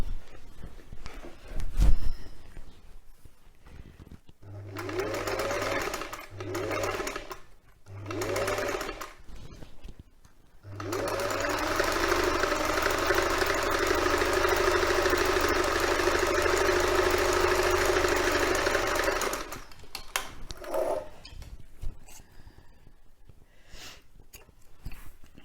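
A sewing machine stitches a quilt cover in several short bursts, then runs in one long steady stretch at an even whirring pace before stopping, with quieter handling sounds between runs.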